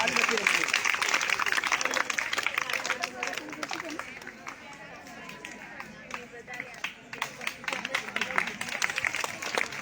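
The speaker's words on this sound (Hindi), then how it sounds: "आप सभी बच्चे तालियां बजाएं।" Schoolchildren clapping at a Teachers' Day honour ceremony in a village school, a dense, steady patter of many hands sustained throughout, with crowd murmur mixed in.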